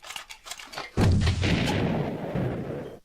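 Artillery bombardment in the strategy game Age of Fear 3: a heavy booming blast erupts after a quieter stretch, then rolls on with a long, loud rumbling decay.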